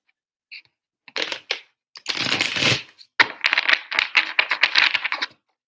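Tarot cards riffle and slap together in several quick bursts, a brisk crackling shuffle with short pauses between, close and crisp with no talking.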